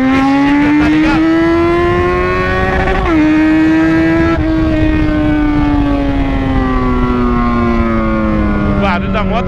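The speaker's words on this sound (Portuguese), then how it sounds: "Barulho da moto que chega, tá ligado?" Motorcycle engine running loud and close, its revving pitch rising and falling steadily with gear shifts and throttle changes, continuous throughout.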